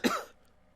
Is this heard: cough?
yes